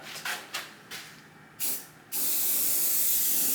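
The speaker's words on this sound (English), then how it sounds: "I do have a couple of coats of primer on it, and now I'll put a couple of coats of color on it" Parts of a vintage Shopmaster jointer get sprayed dark gray, short hissing bursts of paint spray up close, then one long continuous hiss, with no talk.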